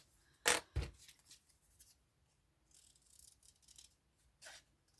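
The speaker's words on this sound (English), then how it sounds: "And then I'm going to fussy cut this." Scissors fussy cutting a paper card element, a few crisp close snips, two sharp ones close together then scattered quieter cuts and rustles, faint and without talking.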